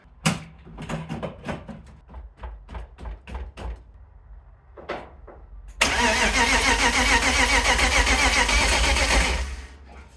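A BMW E36's engine cranks in a few rhythmic bursts, pauses with more short cranking, then catches and runs loudly and steadily for several seconds before cutting off.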